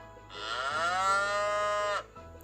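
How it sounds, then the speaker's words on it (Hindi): One long, drawn-out cow moo, rich and steady, heard close and clear in a quiet setting. "गाय का आवाज़।"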